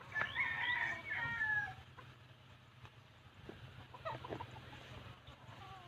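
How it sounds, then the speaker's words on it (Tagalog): Roosters bred for derby fighting crow at an uncle's chicken farm in the Philippine countryside: a loud crow at the start, then scattered clucks and softer calls over a quiet outdoor background. "Farm ng manok."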